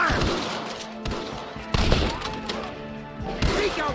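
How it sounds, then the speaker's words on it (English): Gunfire in a shootout in Red Dead Redemption: loud sharp shots ring out in quick succession at close range, some with heavy booming impacts, over a busy battle background. "Open fire!"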